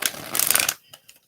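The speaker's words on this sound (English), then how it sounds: "One more shuffle." Tarot cards being shuffled, a quick riffling burst close by followed by a few soft taps as the deck settles.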